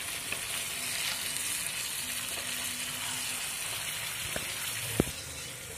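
Marinated chicken pieces fry in a pan with a steady, close sizzle, broken by a few sharp clicks and a louder tap near the end.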